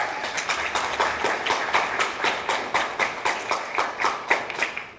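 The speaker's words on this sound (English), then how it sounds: "You got a cheering crowd over here." Steady applause from a ceremony crowd at a student leadership recognition event, many hands clapping in a dense, even patter with faint rhythmic peaks, no voices over it.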